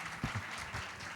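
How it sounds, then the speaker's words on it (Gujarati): A festival audience at the Nippon Odori Japan festival breaks into a short burst of dense clapping, loud and close, lasting only about a second. "ફરી એકવાર જોરદાર તાળીઓ એમના માટે થઈ જાય"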